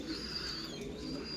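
Pigeons at a pigeon-keeping home coo softly and continuously at a moderate distance, a low murmuring call over faint background noise.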